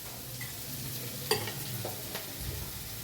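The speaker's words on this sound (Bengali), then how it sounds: "এবার আমি ভাতটা ঢেলে দিচ্ছি।" Cooked rice is stirred and fried in a pan with vegetables, ghee, cashews and raisins for fried rice; steady close sizzling under repeated scraping stir strokes, with a sharp clink of the utensil partway through.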